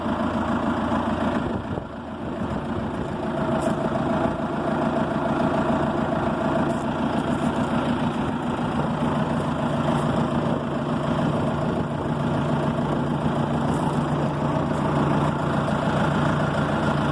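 An unpainted Fendt 410 Vario tractor idles steadily with a constant low diesel rumble and hum, loud and close, holding an even level for the whole stretch with no voices.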